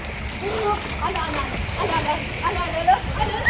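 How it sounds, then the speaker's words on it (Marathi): Water splashing and sloshing at Lonavala, with broadband splashes running steadily throughout and voices talking and calling over them. "मामा पाणी टाकताय"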